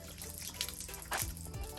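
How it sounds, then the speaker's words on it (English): Water is poured onto the door sill of a Jeep Wrangler JL/JT fitted with door armor, a short, quiet splashing and trickling with a brief louder gush near the end. "So first with the water, let's pour it on the sill."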